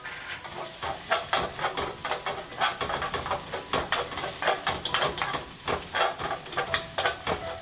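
Green chilies and garlic sautéing in hot oil for fried rice, a bright steady sizzle overlaid with quick rhythmic stirring scrapes, close and continuous throughout, no talk.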